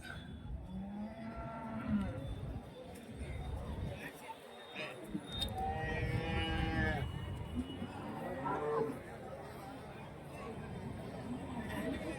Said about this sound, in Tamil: நல்ல மாடு